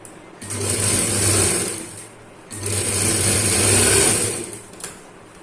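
Sewing machine stitching fabric for a small child's dhoti salwar, running in two sustained bursts with a steady mechanical whir and a short pause between them, close and fairly loud with no talk.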